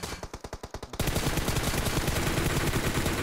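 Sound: gunfire in a mobile shooter video game

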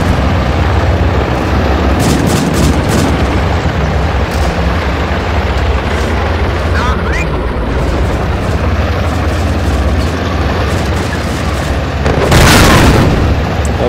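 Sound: rocket explosions in video game Steel Fury

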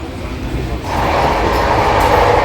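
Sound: Howrah Barmer Express passenger train running

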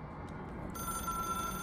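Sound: telephone ringing in the video game Control

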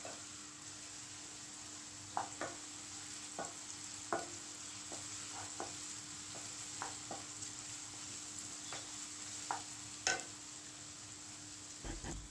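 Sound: tomato gojju ingredients frying in a pan

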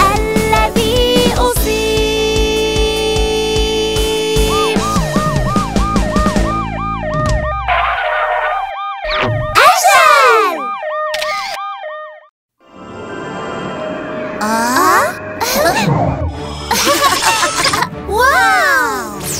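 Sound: siren sound effect in children's song

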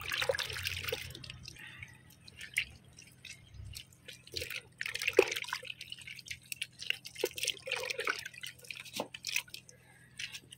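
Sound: pouring fertilizer mixed in water onto allamanda plant

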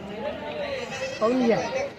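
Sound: goats bleating at a goat market

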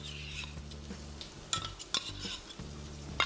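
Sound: stirring tomatoes with ginger garlic paste in a frying pan

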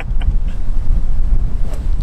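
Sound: strong wind on a golf course

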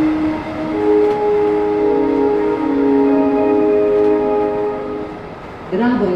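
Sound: train set pulled out from track, from a train simulator video game

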